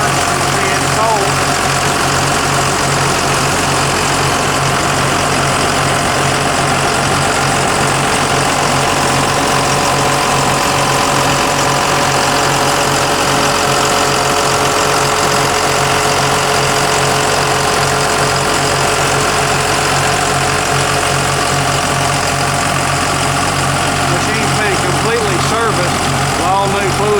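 A rebuilt John Deere 6.8 liter PowerTech diesel engine in a 648GIII tractor idles steadily and loudly, a constant low rumble with a faint knocking texture that continues unchanged throughout.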